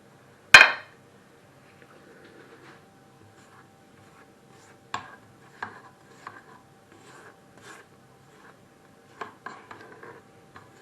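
A spatula scraping creamed butter and sugar around a mixing bowl for a sponge cake, with a sharp clink at the start followed by several short, quiet scrapes and taps spaced apart in a still room.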